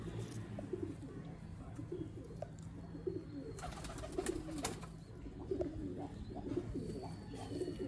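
Sialkoti pigeons, prized old birds kept in a loft, coo in soft repeated throaty calls close by, with a few sharper chirps and a burst of wing flutter midway over a low background hum.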